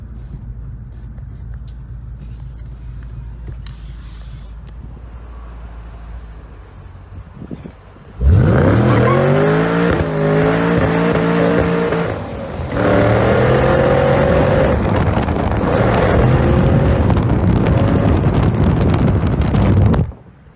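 A 2014 Shelby GT500 V8 with a Borla ATTAK catback exhaust roars loudly as it accelerates hard, with rising revs, a brief dip at a gear change, then climbing again over gusty wind noise.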